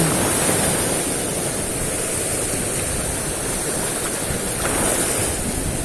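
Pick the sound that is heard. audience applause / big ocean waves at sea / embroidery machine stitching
big ocean waves at sea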